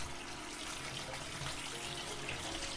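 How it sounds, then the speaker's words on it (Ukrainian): Warm tap water runs steadily over freshly cooked al dente pasta for Bolognese, a constant close gushing splash into the sink with no pauses or voices. "промиваємо їх людяною водою"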